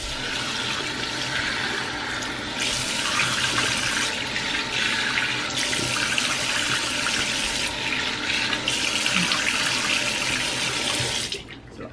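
Running water from a tap splashes steadily as a face is rinsed off at a sink, with the flow surging and easing as hands move through it.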